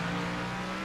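A race car in a sim racing broadcast at Sonoma Raceway drones past with a loud, steady engine tone, carried briefly at close range with no talk over it.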